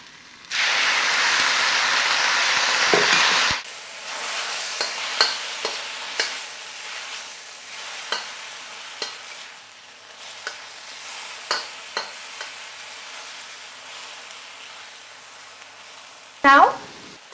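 Vegan vegetable chow mein noodles are stir-fried with sauce in a hot pan: a loud burst of sizzling for several seconds, then quieter scattered scrapes and clinks of stirring, ending in a sharp utensil clatter.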